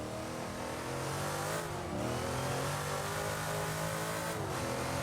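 A 1960s race car at Goodwood revs hard up toward 7,500 rpm, its engine note loud and close, rising and falling in a continuous snarl with no voices.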